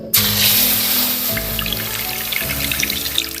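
Milk poured into a wok for rasmalai, a steady close splashing pour with a low hum underneath, continuing evenly for a few seconds.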